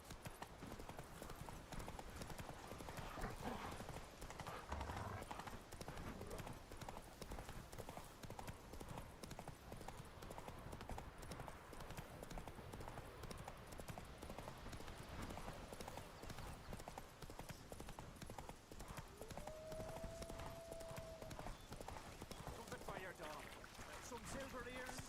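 Hooves of the horse Roach in The Witcher 3, a rhythmic clip-clop of trotting that continues steadily under game ambience, with voices speaking over it.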